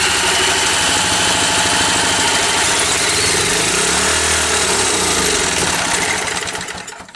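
An old engine of unknown type, with a suspect diaphragm and trouble drawing petrol, runs briefly, giving a loud, steady, throbbing idle with a rhythmic pulse. It carries on for several seconds and then begins to die away at the end.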